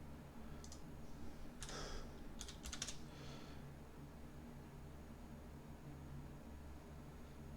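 Keystrokes on a computer keyboard during a live software demo of a procedural foliage tool, a short burst of several clicks in the first few seconds over a steady low hum, then quiet.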